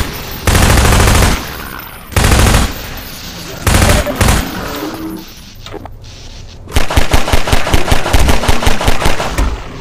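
Pistol fire in the Half-Life 2 video game arrives as loud bursts of sharp shots, first in separate clusters and then as a rapid run of evenly spaced cracks toward the end, with a voice faintly underneath at times.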